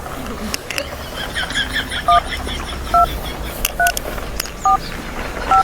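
Touch-tone keypad beeps from a mobile phone being dialed, about seven evenly spaced two-tone presses, close and clear, over room noise and brief background chatter.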